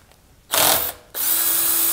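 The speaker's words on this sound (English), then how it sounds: "just grab your 5/16 and let's see if we can unscrew it" A 5/16 socket works a bolt loose on a garage door opener motor, giving two bursts of loud mechanical ratcheting whir close up, separated by a short pause.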